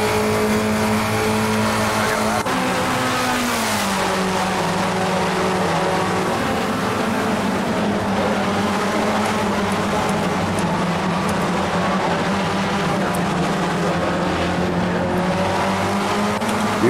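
A Ford Spec Racer race car in the iRacing sim drives at Daytona, its engine droning loud and steady with one downshift early on and a gradual pitch rise, continuous throughout with little talk.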